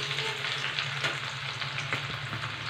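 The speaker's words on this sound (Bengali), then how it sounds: "শুকনো লঙ্কা, পেঁয়াজ কুচি, একটু নাড়াচাড়া করব।" Dried chili and chopped onion frying in oil while being stirred, a steady close sizzle with occasional scraping and clinking of the spoon against the pan.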